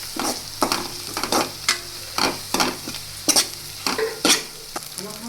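Chopped colocasia (taro) leaves hit a hot pan for Gujarati alvi na pan ni bhaji, sizzling steadily while a spoon scrapes and stirs in repeated close, rhythmic strokes.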